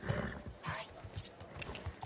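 Horses are led out of stables in The Last of Us Part II, with soft, quiet hoof thuds and low animal snorts mixed into faint ambient noise.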